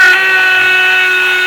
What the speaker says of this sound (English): drilling a hole for the Teflon